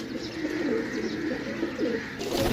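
Lunda pigeons coo in low, soft, rolling calls, close by and steady, with no talking.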